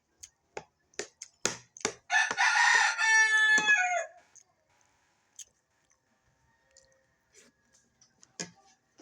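A rooster crows once, loud and close, a long harmonic call in the middle of scattered clicks and ticks, with faint background sounds after it.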